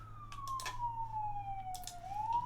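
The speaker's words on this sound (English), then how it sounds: "So I'll hear the sounds of the sirens." A faint, distant emergency siren wails in a slow, gliding tone that falls and then starts rising again, with a few soft clicks nearby and no speech.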